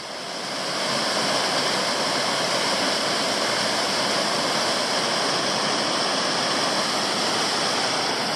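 Virginia Falls on West Canungra Creek in Queensland, a steady, close, full roar of falling water that swells in over the first second and then holds unbroken.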